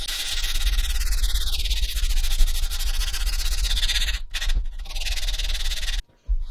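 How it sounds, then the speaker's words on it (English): Sandpaper rubs steadily over a wooden piece, smoothing raised edges and chipped wood left after a bottle opener was removed; continuous close scratchy strokes with brief pauses near the end. "scuff sand and sand down any raised edges or chipped wood from removing that bottle opener"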